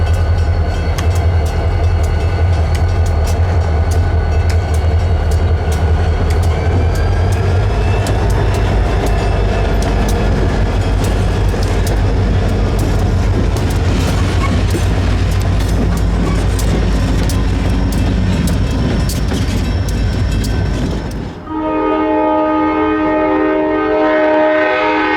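A grey Alstom SD40-3 diesel locomotive runs light on the Aberdeen Carolina and Western near Aberdeen, a loud, steady, close diesel roar with horn blasts layered over it, then cutting off abruptly to a quieter tonal hum near the end.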